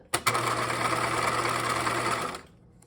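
A sewing machine edge stitches close to the edge of a backpack drawstring. It runs in one steady, close whirring burst of about two seconds, then stops. No talking.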